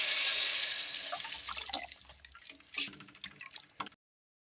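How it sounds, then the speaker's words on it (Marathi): Water pours steadily into a pot of khichdi with a bright splashing rush, then thins to gurgles and scattered drips before falling silent. "तळून त्यामध्ये पाणी ओतलेलं आहे"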